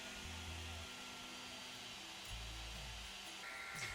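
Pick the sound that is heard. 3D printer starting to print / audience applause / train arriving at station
3D printer starting to print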